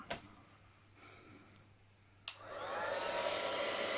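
A heat tool starts up with a click and then blows hot air in a steady, close whoosh onto craft materials after a quiet lead-in.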